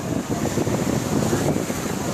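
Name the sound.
sea waves and strong wind on the beach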